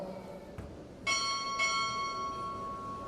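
A ship's bell rings out in a ceremonial time order at a chief petty officer pinning ceremony at Recruit Training Command, one clear metallic strike followed by a second, each leaving a long bright ringing decay over faint room murmur.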